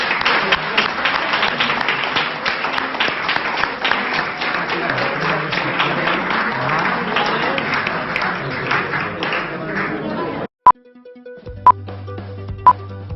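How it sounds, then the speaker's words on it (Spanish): Sustained audience applause at a book presentation, steady crowd clapping for about ten seconds before stopping abruptly, followed by a few isolated sharp knocks. "pido un aplauso fuerte, por favor."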